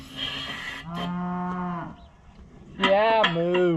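A cow moos close by in two drawn-out calls, the second louder and rising, with a short quiet gap between them.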